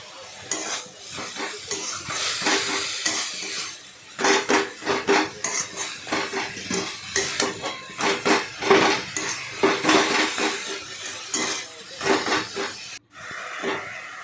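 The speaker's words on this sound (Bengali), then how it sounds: "চিনি দিয়ে শাকটাকে ভালো করে নাড়াচাড়া করলাম" Red amaranth greens with sugar stirred in a pan for a poppy seed and prawn dish, with repeated loud metallic scrapes and clanks of a spatula against the pan over a soft hiss, in uneven bursts with no talk.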